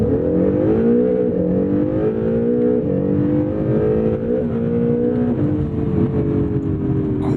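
A 2017 Acura NSX hybrid sports car accelerates hard, its engine note rising in steady sweeps broken by quick gear shifts, loud and continuous from start to finish with no talking.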